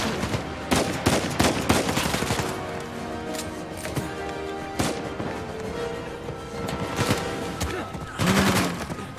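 Gunfire from the video game Uncharted 4, sharp loud shot bursts scattered across the stretch with some rapid clusters over a busy game soundscape.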